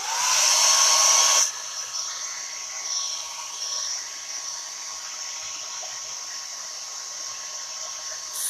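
A hair dryer drying freshly applied chalk paint roars loudly at full blast for about a second and a half, then drops to a steady, quieter whooshing hum that carries on to the end.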